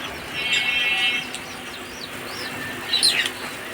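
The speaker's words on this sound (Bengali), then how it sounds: "কিছু লাভবার্ড এখানে আছে" Lovebirds in an aviary, with brief bursts of wing flapping and a few quick high chirps over a faint background hum, no speech.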